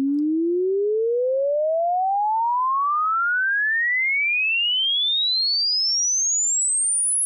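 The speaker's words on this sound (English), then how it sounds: "Let's see and hear a sine wave sweep from 20 Hz to 20 kHz exponentially" A pure sine tone sweeps exponentially from 20 Hz up to 20 kHz, starting as a low hum and gliding steadily higher into a thin piercing whistle, alone and at a constant level.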